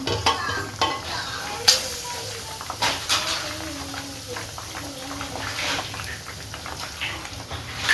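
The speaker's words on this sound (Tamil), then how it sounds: "இதே போல் மீதி இருக்க சிக்கனையும் பொறிச்சு எடுத்துக்கலாம்" Chicken pieces frying in hot oil over a medium flame for fried noodles, a steady close sizzle with occasional stirring scrapes and clinks, continuous throughout.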